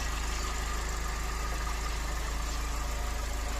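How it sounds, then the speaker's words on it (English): A Mercedes W124 engine, converted from carburetor to fuel injection and running without an air cleaner, idles close by with a steady, even low rumble and faint knocking pulse, no talking. "Yes, the machine is alive, very much alive. Maintains the idle pretty well."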